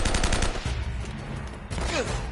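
Rapid bursts of gunfire from the video game Uncharted: Drake's Fortune, a loud volley at the start followed by further shots and game effects, continuous and close.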